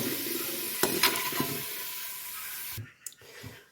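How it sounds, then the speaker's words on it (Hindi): Potatoes frying in hot oil for aloo gosht make a close, continuous sizzle with a few stirring scrapes and clacks, then the sizzling cuts out suddenly near the end, leaving only faint knocks. "तो ये देखिए हमारे जो आलू है फ्राई हो गए, हल्का सा इनका कलर चेंज हो गया।"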